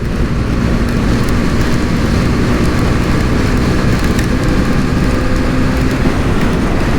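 Rain falls during a motorcycle ride on a highway, giving a dense, steady hiss blended with continuous wind and road roar at a constant loud level.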